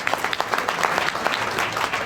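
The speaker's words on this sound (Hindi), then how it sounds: "तो जोरदार ताली होना चाहिए आप सभी के लिए।" An indoor audience at a Safe Shop business seminar claps together in a steady, dense round of applause that runs without a break and is heard alone, with no voices over it.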